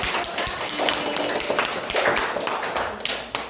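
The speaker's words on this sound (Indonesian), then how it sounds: "Iya, tepuk tangan." Schoolchildren in an Indonesian classroom clap together, a close burst of uneven, overlapping hand claps that swells and dips for a few seconds.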